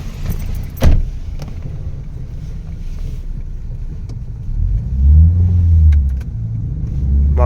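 A taxi pulls up nearby on a street, its engine rumbling low and steady, swelling as it draws close, with a clack of a door or keys early on and some wind buffeting the microphone.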